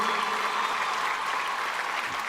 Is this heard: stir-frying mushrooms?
no